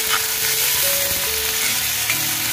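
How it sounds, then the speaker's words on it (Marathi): Onion, garlic and tomato sautéing in a pan produce a loud, constant sizzle close up, with light stirring scrapes woven through and no voices. "आता कांदा लसूण मस्त परतवून झालेला आहे. याच्यामध्ये टोमॅटो घालून घेतलाय."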